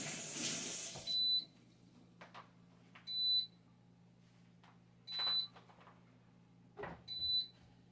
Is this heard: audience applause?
no